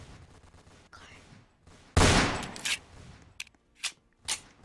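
Roblox game combat with a rocket launcher and gunfire: a loud blast burst followed by several shorter sharp shots, with low background game noise between them.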